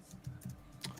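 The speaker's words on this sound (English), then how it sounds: "I'm typing." Quiet typing on a computer keyboard, a handful of soft irregular key clicks in quick succession, faint and close with no talking.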